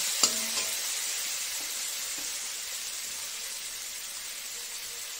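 Oil and ingredients fry in a pan before small shrimp go in for fritter filling, a soft, even sizzle throughout with a sharp clack of a utensil near the start and faint stirring after.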